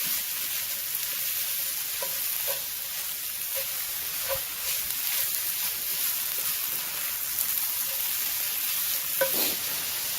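Food is stirred and broken up in a cast iron pan on a grill, under a steady broad sizzle with scattered scraping taps from the utensil, close and continuous.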